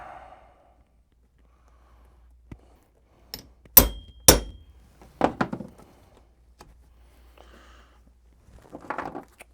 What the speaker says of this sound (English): So now that I got my punch, a little leather backing.